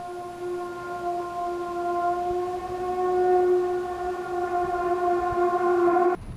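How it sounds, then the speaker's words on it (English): A drone detector alarm sounds in the battered streets of Kostyantynivka, eastern Ukraine: a steady, loud multi-tone electronic drone holds for several seconds and then cuts off abruptly, with no voices. "a drone detector picks up a threat overhead"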